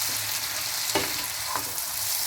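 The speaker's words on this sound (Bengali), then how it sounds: "পনিরটা দিয়ে আমি ভালো করে নেড়ে নিয়ে" Paneer and mixed vegetables fry in a pan with a continuous close sizzle. Two soft scrapes of stirring stand out briefly against the hiss.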